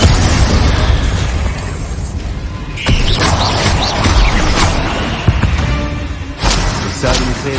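Explosion spells Bombarda and Confringo going off in the Hogwarts Legacy game: several loud booming bursts and crackling blasts over a dense, continuous rumble of combat, with sharp hits around the middle and near the end.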